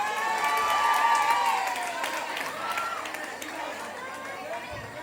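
An audience at a summer dance fest gives a performer applause and cheers, with clapping and crowd chatter in a hall and a voice speaking over it as the noise fades.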